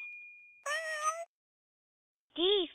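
A cat meows twice, loud and close: a longer wavering meow, a short silence, then a brief rising-and-falling meow, following a fading chime.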